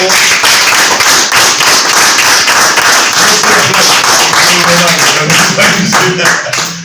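A crowd gives a loud round of applause for Marcelo at a workers' political initiative launch, close, busy clapping with distinct sharp hand claps and some voices mixed in underneath.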